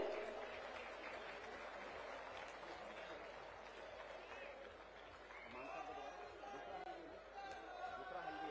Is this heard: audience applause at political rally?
yes